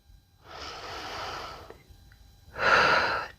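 Deep breaths are taken during a yoga stretch in a calisthenics workout: a long, steady airy breath followed by a shorter, louder, forceful one, close to the microphone with no talking.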